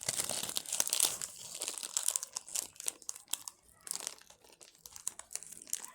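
A French wafer bar's plastic wrapper is torn open, giving close, continuous crinkling and crackling with sharp tearing spikes over about six seconds, loud and alone.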